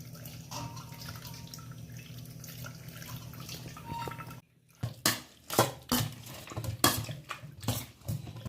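Boiled grapes being rinsed under running water: a steady hiss of flowing tap water, a brief pause, then a series of sharp splashy swishes and drips as the fruit is stirred and handled.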